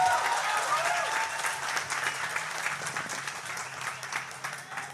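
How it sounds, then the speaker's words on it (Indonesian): Audience applause during a political address about Indonesia losing the U20 World Cup hosting, a crowd clapping in a moderately loud, uneven patter, with a voice faintly audible underneath early on. "Ya tepuk tangan kita semuanya."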